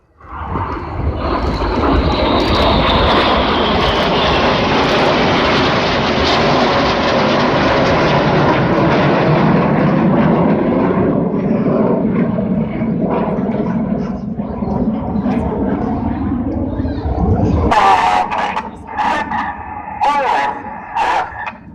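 Red Arrows jets fly a corkscrew manoeuvre at the Sunderland Airshow, producing a loud, sustained roar that swells and slowly falls away over nearly twenty seconds, while a commentator talks over it and crowd noise follows.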